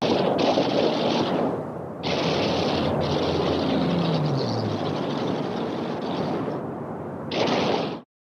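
Twin machine guns in the aft lower turret of a wartime bomber fire long, loud, continuous bursts with brief gaps between them, a dense chattering roar with no voices.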